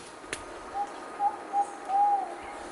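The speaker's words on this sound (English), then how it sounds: "That's the short-billed pigeon." A short-billed pigeon calls in a Maya forest corridor, giving a series of soft, low coos (four brief notes, the last one longest) over quiet forest ambience with a faint click early on.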